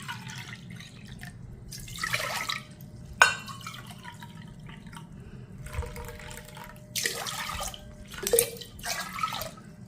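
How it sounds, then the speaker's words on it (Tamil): Soaking water from Mappilai Samba rice poured into a pot in a home kitchen, several short splashing pours and drips in separate bursts with quiet gaps, close and moderately loud. "அதை நம்ம ஊற வச்ச தண்ணியை வந்து இதில் அளந்து ஊற்றிக்கிறோம்"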